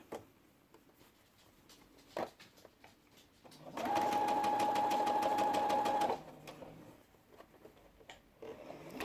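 A sewing machine stitches a seam on a cotton face mask in one steady, rapid mechanical run of about two seconds, close and clear, set between quieter handling sounds of fabric.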